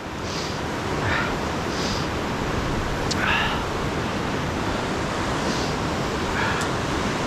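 Rushing whitewater of Dartmouth Rapids on the Youghiogheny River in Ohiopyle State Park, running at about five to six feet, makes a constant broad roar heard from the bank, with a few faint high chirps above it.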